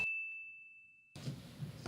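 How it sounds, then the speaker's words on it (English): A single bright ding of a bell sound effect rings out clearly and decays over about a second, followed by a burst of soft background noise. "Ding."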